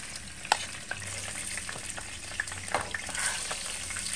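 Afghan minced-meat kebab frying in a pan, a steady close sizzle with scattered pops and crackles and a few light clinks of utensils against the pan.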